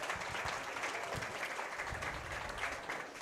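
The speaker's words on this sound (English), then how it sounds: "let's give these seniors a big round of applause out here" A crowd at a county fair swine show in the show ring applauds steadily for the seniors, a dense, continuous patter of clapping at moderate volume throughout.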